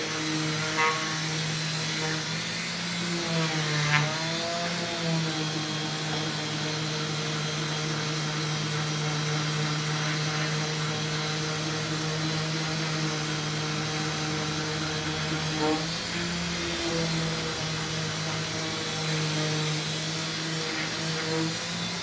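A power tool grinds Bondo body filler off a mini cup race car, a steady whining drone that runs loud and close throughout with small shifts in pitch as pressure changes.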